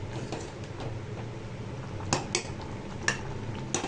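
A lid set onto a pot of simmering kuzhambu with added dumplings on a stove, giving a few sharp metallic clinks over a low steady bubbling and burner hiss.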